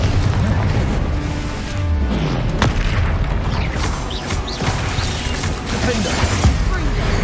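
Spell explosions going off in Hogwarts Legacy, dense booms and crashing bursts one after another over a busy game soundtrack, with a voice calling out in the background.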